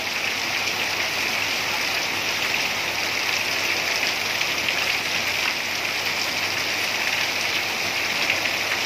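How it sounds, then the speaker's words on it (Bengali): Heavy rain pours onto a street in Gazipur, a dense, even roar of water that stays constant from start to finish with no voices. "এখানে প্রচুর পরিমাণে বৃষ্টি হচ্ছে।"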